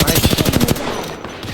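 Rapid automatic gunfire in the Apex Legends video game: a loud, fast burst of about a dozen shots in quick rhythm, then a short fading tail.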